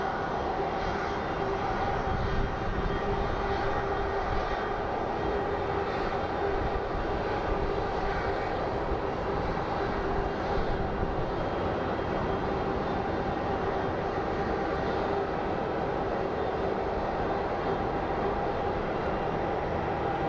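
An Airbus A320neo approaching to land at Phoenix Sky Harbor International Airport gives a loud, steady jet roar that holds with little change from start to finish, with no talking.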